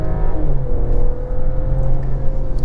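A 2021 Mercedes-Benz E450 4Matic All Terrain with 48-volt electric assist accelerates hard, its engine note climbing steadily in a loud, continuous drone heard from inside the cabin.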